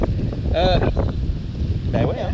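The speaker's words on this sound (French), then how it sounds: "là, il y a du vent qui se lève" Wind rising at a beach, blowing steadily across the microphone as a loud, rough rush under someone speaking French.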